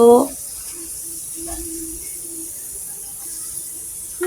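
Nihari trotters hiss in hot oil with fried cumin, a soft, steady sizzle that carries on after a brief voice at the start.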